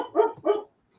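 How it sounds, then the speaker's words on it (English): A Labrador dog gives two quick, loud barks close by, then goes quiet. "I thought that was you barking."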